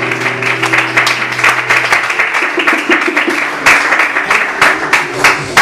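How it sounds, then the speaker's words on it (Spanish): Church congregation applauding, dense rapid clapping from many hands at close range, with a few voices mixed in and a low organ-like tone fading early. "¿Cuántos en esta tarde le podemos brindar un aplauso al Señor?"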